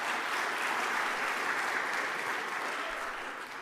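A debate audience breaks into steady, full applause, a dense wash of clapping hands that holds evenly and tapers only slightly at the close, with no voices over it.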